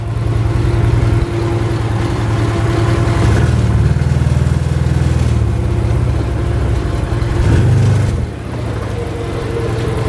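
A 2016 Can-Am Commander XT 1000 side-by-side engine drones steadily and loudly at close range, rising in a couple of brief surges as the machine rolls over a small block; no talking.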